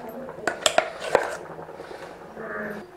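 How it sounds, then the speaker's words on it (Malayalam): Ground paste goes into a pot of simmering tamarind curry, with a few sharp metallic clinks of a spoon or vessel against the pot and soft wet stirring, quiet and close in a kitchen. "ഇനി അരച്ച് വെച്ചത് ചേർക്കുകയാണ് കേട്ടോ."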